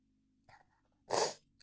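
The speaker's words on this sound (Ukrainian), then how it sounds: "Ну, досі, я сьогодні дуже багато пчхав." A single person sneezes once, a short sharp burst after a faint intake of breath, close and fairly loud against near silence.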